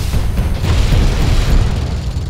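A loud, sustained rumbling boom from an explosion in Just Cause 3, heavy low-end roar lasting a couple of seconds with no speech.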